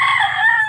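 Grown backyard chickens and chicks fed by their keeper, a close, loud, brief call with a sustained crowing-like tone.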